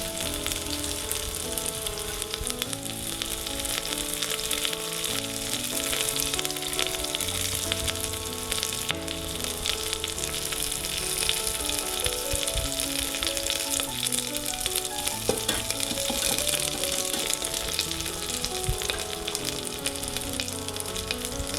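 Curry leaves dropped into hot oil for a sardine fry (mathi perattu), crackling and sizzling densely and continuously, loud and close, with no voices.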